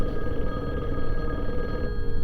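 A telephone on an unlisted line rings in a steady, continuous electronic tone, fairly close and alone, with no voices over it.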